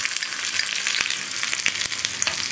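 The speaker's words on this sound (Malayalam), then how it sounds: "നമുക്കിതിലേക്ക് റൗണ്ടിൽ കട്ട് ചെയ്ത് വെച്ചിരിക്കുന്ന ഉള്ളി ചേർക്കാം" Sliced onion rounds drop into hot oil where mustard seeds have already popped, for a Kerala-style tomato and bean curry, giving a steady, close crackling sizzle with small sharp pops throughout and no talking.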